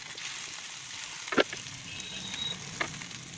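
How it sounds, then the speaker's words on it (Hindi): Mutton shami kebabs frying in a pan over lowered heat, a steady soft sizzle throughout with a couple of brief sharper pops or utensil clicks, close and moderately quiet, no talking. "सेम प्रोसेस से हम दूसरा बैच भी फ्राई करेंगे।"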